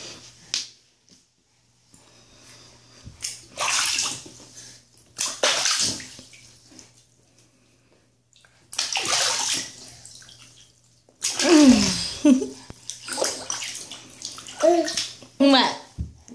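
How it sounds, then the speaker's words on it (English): A child splashing water in a bathtub, with bursts of sloshing and slapping water between quieter pauses, mixed with a voice and an adult speaking nearby. "Are you splashing?"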